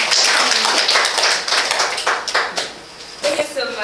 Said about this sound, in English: remain seated and clap for yourselves